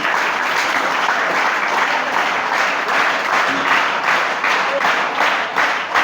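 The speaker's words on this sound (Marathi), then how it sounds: "ती टाळ्या वाजवून त्यांना प्रोत्साहन करायचं आहे" Sustained applause from a school audience cheering students at an Independence Day speech event, steady and dense clapping filling the whole stretch without pause.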